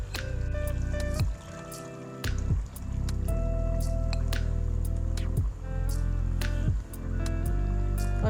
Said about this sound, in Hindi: हम इसमें दही डालेंगे। दही ऐड करेंगे 2 कप।